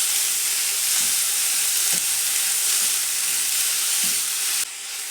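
Tomato goes into a pan of zucchini, sizzling in a steady close hiss with a few soft stirring knocks, quieter near the end.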